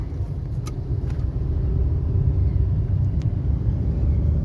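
A car pulls away in second gear during a driving lesson, giving a steady low engine rumble with road noise that stays close and even throughout, with faint clicks above and no talk.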